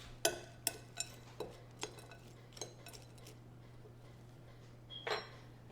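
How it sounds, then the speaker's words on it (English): Cheese being mixed into chicken stuffing in a bowl for bacon-feta stuffed chicken, heard as a string of sharp utensil clinks and scrapes against the bowl, close and fairly quiet, easing off midway before one last clatter. "Then we're going to take our cheese. And we're just going to mix it all up."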